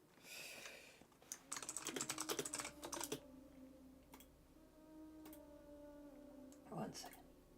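Bursts of rapid clicking keystrokes on a computer keyboard, close and fairly loud, come in quick flurries with short pauses, over a low room hum during a live stream.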